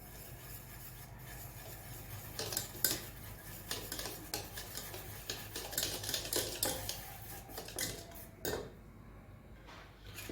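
Rava cake batter being stirred with a spoon after baking powder and vanilla essence are added, with repeated soft scraping and clinking against the bowl, close and fairly quiet, no talking.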